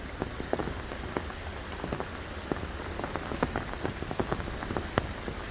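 Heavy rain pours steadily in a forest, a dense close hiss of drops on leaves and surfaces with frequent sharper individual drip impacts throughout, with no voices.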